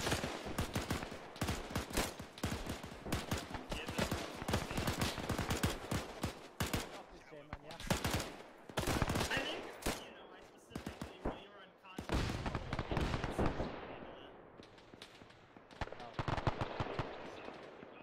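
Rapid gunfire from a military video game, dense bursts of automatic fire and single shots crackling almost nonstop, loud and close, with players talking over the shooting.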